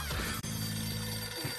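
Loud ringing of an old-style telephone bell in a French cartoon, a continuous metallic trill over a busy music and effects background, lasting about a second and a half.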